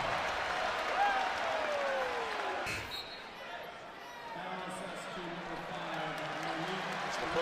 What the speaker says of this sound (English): Kopp is taking a seat, and he's going to get a loud applause